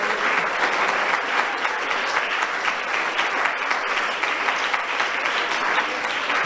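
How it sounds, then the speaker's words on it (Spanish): Dense, sustained applause from a church congregation during a Spanish-language sermon, a steady wash of many hands clapping at even loudness throughout, no voice over it. "Dele el aplauso al Señor."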